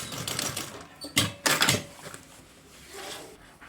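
A sewing machine backstitches on a school backpack, giving two or three short, close bursts of fast mechanical stitching, separated by brief pauses and quieter handling noise.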